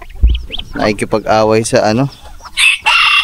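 Chickens on a farm, Java breed among them, cluck and squawk close by, some fighting with a new bird, while someone talks over the calls in Filipino.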